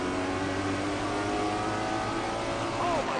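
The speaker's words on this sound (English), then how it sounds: "the Little Debbie car is heading the wrong way" A race car engine drones and revs on track, heard at a distance as a steady, slightly rising mechanical whine under broadcast-style noise, with no clear pass-by.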